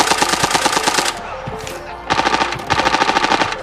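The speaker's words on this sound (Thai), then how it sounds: "มันยิงกันเอง มันยิงกันเอง มาตีกันตายแล้ว" Gunfire from players shooting each other in the video game Arena Breakout, with loud, rapid automatic bursts that pause briefly and then resume in dense rattling volleys. No one talks over it.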